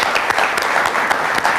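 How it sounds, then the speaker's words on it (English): A school audience applauds coach Amy Eflin in a brief, loud burst of dense, close clapping with sharp individual claps standing out. "Let's give her a round of applause."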